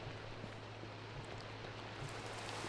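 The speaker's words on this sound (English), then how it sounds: "Oh, it's raining." Steady rain hisses in the video game Minecraft as a soft, even wash of noise with a low hum beneath, faint and continuous with no voices.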